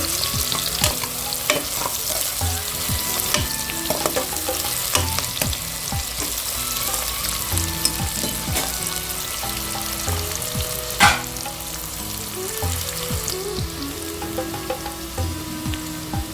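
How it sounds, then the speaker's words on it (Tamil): Onions sautéing in a pan for cooker egg biryani, giving a dense, continuous sizzle and crackle with frequent stirring scrapes and spoon taps, close and fairly loud with no talking. "கொஞ்சம் வெங்காயம் வதங்கிருச்சு"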